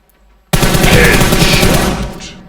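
Sudden loud burst of rapid automatic gunfire in PUBG Mobile erupts after a half-second of near silence, sustaining a dense, continuous volley for about one and a half seconds before tailing off.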